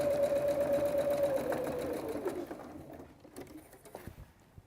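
A sewing machine runs a quarter-inch seam allowance through fabric, a steady mechanical stitching run with a faint hum that slows and stops partway, followed by light handling sounds.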